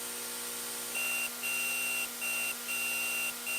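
Electronic beeps from modulated LCD electromagnetic fields repeat in short, uneven bursts, a steady high tone switching on and off over a constant background hum.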